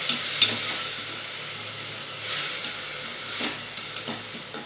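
Ginger and garlic sautéing with mushrooms in a hot pan give a steady, close sizzle with soft hiss, broken by a few brief scrapes and stirs, no voices.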